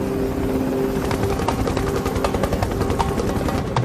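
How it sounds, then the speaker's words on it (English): A naval helicopter hovering over a fishing boat in rough seas, its rotor blades chopping in a fast, steady thud over a loud, continuous engine roar, close and alone. "The captain calls in the chopper."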